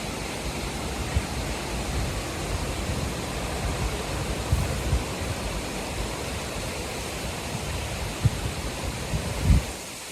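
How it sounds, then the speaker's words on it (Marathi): Loud, steady rush of a large waterfall, a dense unbroken roar of falling water that stays constant and close throughout, with no voices. "इतका छान येतोय ना, पूर्ण पाण्याचा आवाज मस्त खळ-खळ, खळ असा आवाज येतोय"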